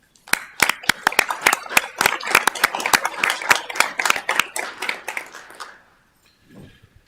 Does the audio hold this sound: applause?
yes